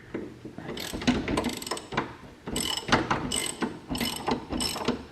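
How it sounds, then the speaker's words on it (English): An impact wrench removes the engine mounting bolts on a John Deere D170 riding mower, giving repeated loud ratcheting, hammering bursts in several short runs close to the mic with brief pauses between them. "I'll finish them off with the impact to remove them."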